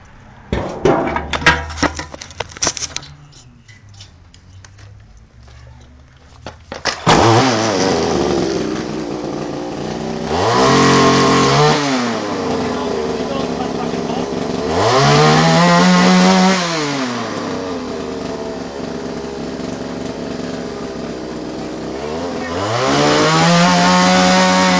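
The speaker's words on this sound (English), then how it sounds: "now I'm going to start up the methanol, the whippersnapper, and you're going to see the difference in revs" Methanol-fuelled whipper snipper pulled into life after a few sputtering attempts, then a two-stroke engine revving up and down in three long rising-and-falling surges, loud and close, with no talk.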